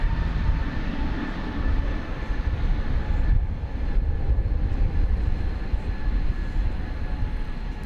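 A jet airliner rolls on runway 18 left at Dallas/Fort Worth Airport, a steady broadband engine roar with a faint whine, continuous and moderately distant with no break.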